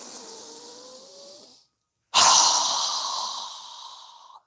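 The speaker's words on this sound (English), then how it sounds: "We're going to inhale through our nose and exhale through our mouth 3 times" A yoga breathing exercise: one soft inhale through the nose, a brief silence, then a louder, longer exhale through the mouth, heard up close with no talking.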